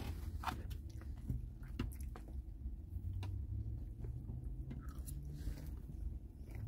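Crispy cajun fries with bacon bits and cheese sauce being eaten, with close crunchy bites and chewing over a low background rumble and no talking.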